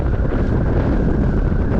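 Strong wind buffets the microphone near a swing bridge by the water, a steady loud roaring rush with no break.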